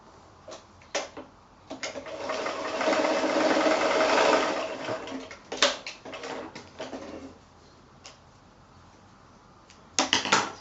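A sewing machine stitches the side seams of a fabric lotus bag made from fat quarters, with a long continuous run, then short stop-start bursts and pauses, close and without talk.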